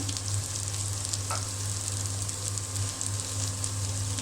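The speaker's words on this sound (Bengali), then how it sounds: "তেলের সঙ্গে অল্প পরিমাণে একটু ভেজে নেব হলুদের গুঁড়া দিয়ে দিলাম" Turmeric powder frying in oil with garlic and ginger paste in a pan: a dense, even sizzle throughout with a steady low hum beneath it and no talking.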